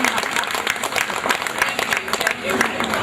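A crowd at a Nigerian 40 Under 40 launch event gives a round of applause for Ego Boyo, steady clapping throughout with voices mixed in beneath it.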